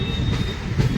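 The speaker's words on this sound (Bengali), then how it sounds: "ট্রেন রামপুরহাট শহর ছেড়ে বেরিয়ে যাচ্ছে" Sahid Express train pulling out of Rampurhat station, a steady loud rumble of rail wagons with rhythmic clickety-clack of wheels on track, heard from inside a crowded carriage with no talk.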